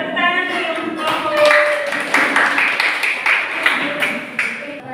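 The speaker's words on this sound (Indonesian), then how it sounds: "Kita tepuk tangan dulu untuk kelompok." Audience clapping for a kinesthetic student group at a school presentation, a steady dense patter of hands under some voices in a room, continuing for several seconds.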